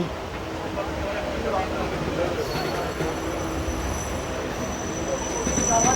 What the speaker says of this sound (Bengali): ট্রেন ছেড়ে দিয়েছে দেখুন